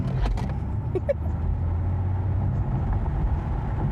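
An Audi e-tron GT electric car accelerating on a test drive, heard from inside as a steady low road and motor rumble with a faint rising whine, with little change in level.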